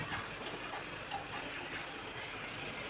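Fish steaming in an idli steamer pot, giving a steady, fairly quiet hiss of escaping steam that holds evenly throughout with no voices.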